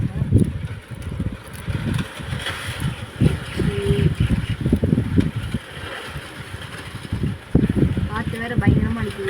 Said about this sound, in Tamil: காற்று வேறு பயங்கரமாக அடிக்குது.